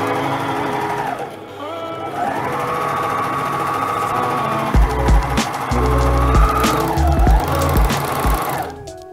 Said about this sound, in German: Wenn Overlock für euch neu ist, dann versucht wirklich langsam zu nähen, damit ihr nicht verrutscht.